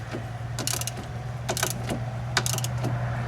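A ratchet snugging strut bolts on a 2001 Dodge Caravan Sport, a few short bursts of close clicking spaced apart over a low steady hum.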